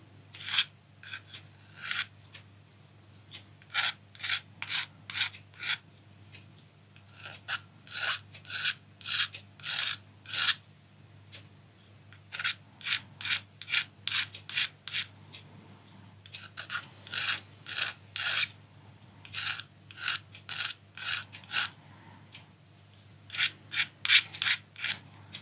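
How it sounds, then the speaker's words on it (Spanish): A hand file rasps along the edges of a small silver piece in Mapuche silversmithing, giving repeated rhythmic bursts of scraping strokes in short groups with brief pauses, close and moderately quiet, with no talk. "Si no tienen matafilo, pueden hacerlo con lima."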